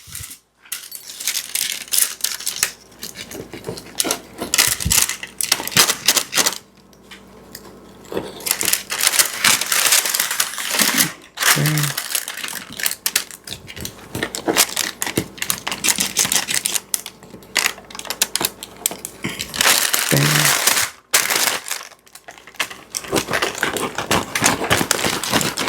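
A knife or pizza cutter slicing through a homemade keto pizza, giving steady crunchy scraping and cutting noises that continue close up for most of the stretch with a few brief pauses.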